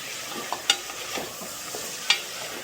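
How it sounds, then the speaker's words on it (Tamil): Vegetables sautéing in a pan for veg biryani, a steady soft sizzle broken by a few sharp scraping and stirring clicks of a spoon against the pan, close by and with no talking. "அதையும் போட்டுட்டு நல்லா வதக்குறோம்."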